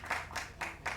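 Brief, faint audience applause at a trailer launch event, heard as a few soft rhythmic swells of clapping from a distance.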